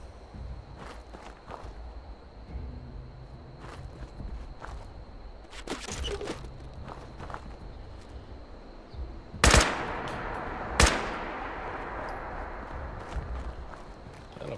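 Gunfire in the video game Fallout 76, with two sharp, loud shots cracking out near the end after a stretch of quieter in-game footsteps and scattered clicks.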